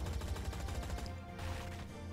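A Gatling gun fires in the video game Monsters & Monocles, a dense rapid stream of shots rattling for about a second, then a short pause before more bursty game noise.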